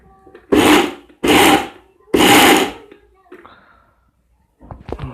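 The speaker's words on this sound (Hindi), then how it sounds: "हम इसमें मिक्सी में डाल देंगे।" A mixer grinder grinds havan herbs for incense powder, whirring loudly in three short bursts separated by brief pauses, followed by quieter rattling and handling sounds.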